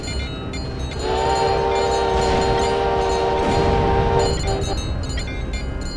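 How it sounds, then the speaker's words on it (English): A ship's steam whistle in the Stormworks naval battle game blows one long, loud, steady harmonic tone for about three seconds amid rumbling background noise. "Give us a whistle blow."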